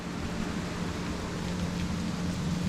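Steady rain falling in a self-sufficient Indian village, a constant even hiss with no breaks and no voices.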